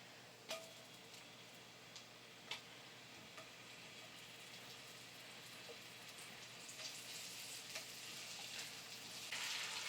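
Onions sizzling in a hot pan with hibachi butter of butter, soy sauce and garlic, a faint steady hiss dotted with occasional pops and ticks, gradually growing slightly louder.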